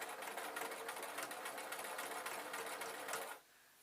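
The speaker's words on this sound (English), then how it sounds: "you can stitch it over with the sewing machine" A sewing machine runs continuously, stitching binding tape onto a jacket with a rapid, even needle rhythm at close range for about three seconds before stopping abruptly into quiet room tone.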